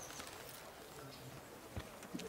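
Horse hooves clip-clop at a steady walking pace as a rider travels in Kingdom Come: Deliverance, quiet and even with a couple of sharper knocks.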